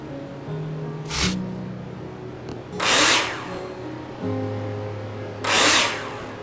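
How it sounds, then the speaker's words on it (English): In the Builder Simulator video game, a power drill drives screws into plasterboard in three short bursts over a steady background hum. The first burst is brief and sharp and the later two are broader and louder, with no talk. "Take your drill out and screw them in."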